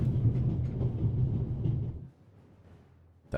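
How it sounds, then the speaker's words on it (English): Rumbling train noise in The Raven Remastered video game as the train is brought to a stop, a loud low clatter for two seconds that drops to a quiet hum, then a brief thump at the end. "let's stop the train, shall we?"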